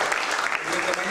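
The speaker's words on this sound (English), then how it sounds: "can we have a big round of applause, everybody, for the Mumbai Police and the Mumbai Traffic Police?" Student audience applauding the Mumbai Police and Mumbai Traffic Police at a traffic-law talk, a steady dense wash of clapping filling the short moment, with possible voices mixed in.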